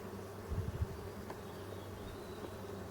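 Honey bees buzz low and steady around an opened Dadant hive in a forest, with a brief louder hum as a few bees pass near, over faint outdoor background noise.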